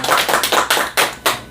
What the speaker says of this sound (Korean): 네, 박수를 환영하겠습니다.